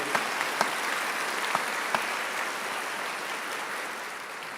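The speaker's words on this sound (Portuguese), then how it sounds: "Vamos dar uma salva de palmas. Aplaude com força" A church congregation claps together in sustained applause, a dense steady patter filling the room with a few sharper claps standing out near the start.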